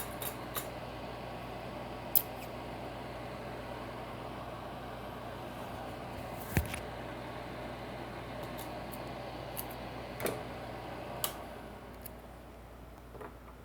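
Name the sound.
tape being handled and cut with scissors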